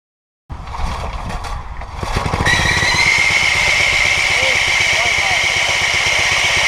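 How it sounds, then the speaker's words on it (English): A tiller engine with a failing Briggs and Stratton starter clutch roars to life, then a steady high-pitched squeal rises over the loud, continuous engine rumble and holds to the end. "it'll make a high-pitched squealing noise as seen in this video right here"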